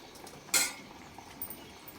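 A metal lid lands on a cooking pot of snail curry with one sharp clank, followed by a fainter small clink a moment later in a quiet kitchen.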